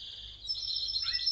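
A Timbrado canary, a Spanish song-canary breed, sings a sustained metallic trilling line that holds steady, then breaks into rapid rolling notes, close and clear over a faint low hum.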